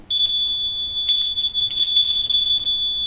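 Polish-made hand bell rung continuously for an Indian-style aura cleansing, a bright sustained ringing with steady clear tones, loud and close, briefly pausing once before ringing on.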